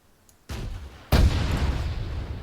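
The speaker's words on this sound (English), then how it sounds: "The grenades are really close." Two close grenade explosions in the Arma 3 military shooter: a sharp blast, then a second louder one about half a second later with a long rumbling tail, no talk.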